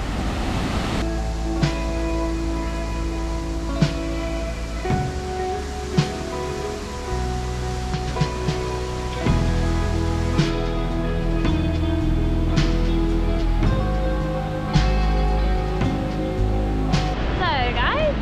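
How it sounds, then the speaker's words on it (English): Taman Sari Waterfall and natural pool in Gianyar, Bali, a steady roaring rush of falling water, loud and close throughout, with a voice speaking over it. "it's actually Taman Sari Waterfall, not Pengebul"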